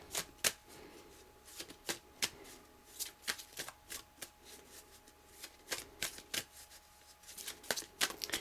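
Tarot cards are shuffled by hand close up, a series of crisp riffling slaps and flicks in uneven bursts, quiet with short pauses between them.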